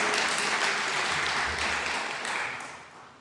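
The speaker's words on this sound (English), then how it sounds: "Y'all can clap. How about that? Y'all just clap." A church congregation claps together in a sustained, dense round of applause that gradually tapers off toward the end.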